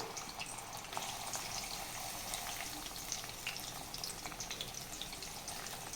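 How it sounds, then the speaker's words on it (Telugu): Onions frying in oil in a pan for a raw prawn curry, a steady close sizzle with dense crackling and popping, continuous and even throughout with no voices. "ఆయిల్లో ఆని ఆనియన్స్ వేసేసానండి ఇంకా ఇది కొంచెం ఫ్రై అయిపోయిన తర్వాత"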